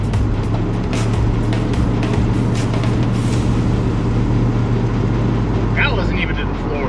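A 1967 Dodge Dart with a freshly tuned carburetor pulls away at three-quarter throttle, its loud, steady engine roar with deep low rumble filling the whole stretch, recorded from inside the car while people talk.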